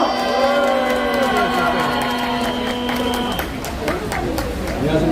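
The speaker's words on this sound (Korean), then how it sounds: "박수로 맞이해 주십시오." Crowd at a Saturday political rally applauds to welcome a lawyer to the stage; clapping and cheering build in the second half over a lingering hum, with crowd murmur throughout.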